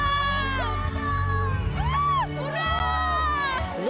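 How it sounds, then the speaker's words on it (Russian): Roughly ten thousand people fill VDNKh on New Year's night, cheering, whooping and shouting continuously, with rising and falling voices close at hand. "На ВДНХ в новогоднюю ночь собрались порядка 10 тысяч человек."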